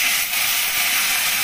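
Tomato puree hits hot oil tempered with a pinch of kasuri methi, giving a steady, loud, close sizzling hiss that holds evenly with no voices.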